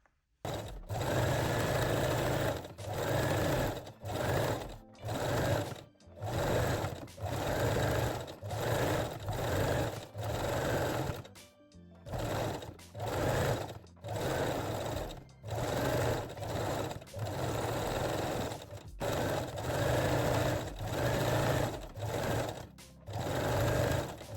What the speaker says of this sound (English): Then fold the fold over elastic and sew the leg openings again.